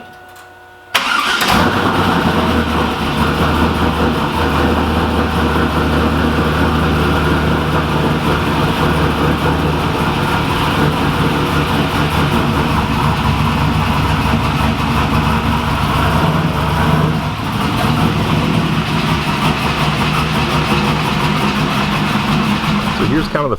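A Pontiac Trans Am WS6 fires up after a brief quiet moment, its engine catching loudly and settling into a steady, rumbling idle that runs on close by for over twenty seconds.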